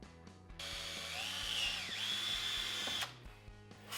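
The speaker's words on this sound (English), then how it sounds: "take and drill just a couple holes that will allow fuel to be fed to the fuel pump" A power drill bores holes into a fuel pump body for a KTM 690 Enduro Safari fuel tank fit, its motor whining steadily and loudly for a few seconds before spinning down, with a faint mechanical clatter around it.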